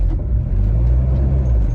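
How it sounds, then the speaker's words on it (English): A turbocharged Honda Integra LS VTEC idles with a surging idle, a loud close low engine rumble that rises and dips slightly in a steady pulse, with no talking over it. "Y'all hear that surge idle though?"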